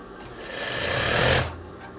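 Sewing machine stitching the side seams of a veterinary coverall, a steady continuous motor whir that builds in loudness and then stops, close and alone with no talk.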